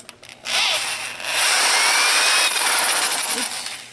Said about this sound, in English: Wow, we even snapped the drill bit.